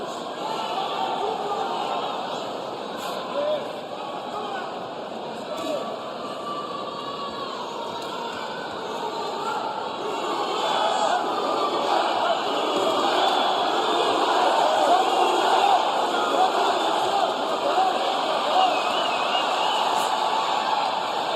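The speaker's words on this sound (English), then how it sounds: "Even over top of the raucous crowd here in Los Mochis." A raucous boxing crowd in Los Mochis roars steadily throughout, swelling louder in the second half, a dense wash of distant cheering and shouting with a commentator's voice faintly mixed in.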